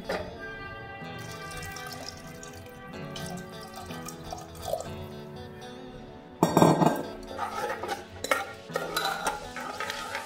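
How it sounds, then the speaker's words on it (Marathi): Water is poured into a pan of pavta (field bean) bhaji, a steady splashing pour that grows louder and brighter partway through, with clinks and drips around it. "आता हे परतून झालंय, पाणी घालूया।"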